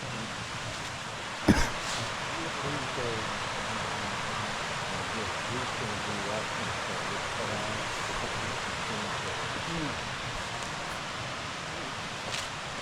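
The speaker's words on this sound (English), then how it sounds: "Apparently the waterfall." A steady, broadband rush of water cascades near the historic Glen White coke ovens, constant and moderately close, with a brief knock early on and faint voices now and then.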